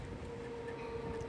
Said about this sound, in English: This number was 524 engine pulling up at Bayshore train station, once again dropping off and loading passengers before its final stop.